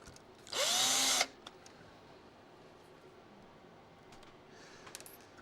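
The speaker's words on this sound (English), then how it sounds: "And then we got to put the screws in them." A small electric screwdriver drives a Phillips head screw into a vintage Nintendo DMG or DS console with one brief, whirring burst under a second long, then quiet handling.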